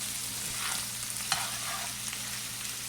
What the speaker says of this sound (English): I'm cooking on a high fire.